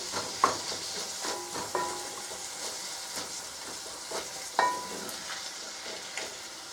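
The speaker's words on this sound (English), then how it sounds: "Just let that simmer away for a while" Pork and beans for a cassoulet sautéing in a pan, a steady soft sizzle broken by occasional stirring scrapes and clinks, close and without talk.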